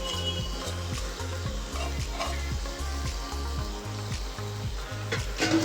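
Crab pieces frying in a pan for a Telugu crab curry: continuous crackling sizzle over a repeating low rhythmic hum, close and even, with occasional stirring clinks.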